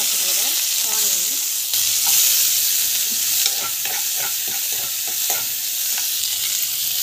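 Mustard seeds, cumin and curry leaves sizzle loudly in hot oil, a dense continuous frying hiss close by with scattered pops and spatters and some stirring scrapes, and no talk over it.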